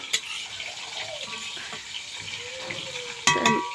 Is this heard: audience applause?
no